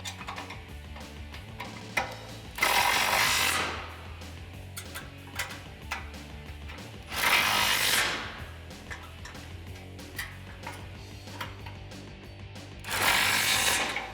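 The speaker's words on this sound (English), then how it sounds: "push the bumper up into place and tighten down your bolts" Bolts on a heavy-duty steel front bumper for a 2014-2015 Chevrolet Silverado 1500 are tightened with a ratchet, close-up clicking runs in bursts, with several louder rasping pulls spaced a few seconds apart and no talk.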